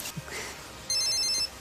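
A mobile phone starts ringing with a short bright electronic tone over quiet room noise.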